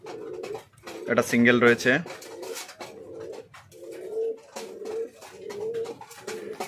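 Fancy pigeons in a home loft coo in repeated low, throaty phrases at close range, while someone talks over and between the calls.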